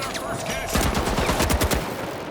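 Rapid bursts of automatic gunfire in the shooter game The Finals, loud and close, with dense overlapping shots that intensify after the first second and keep going to the end.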